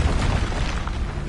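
Expulso blast spell in Hogwarts Legacy going off as one short, loud, close boom with a brief noisy rumble and no talk.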